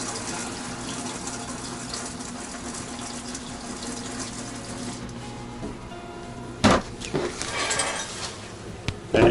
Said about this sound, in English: Same thing with the toilet. Gonna run that till the water's clear.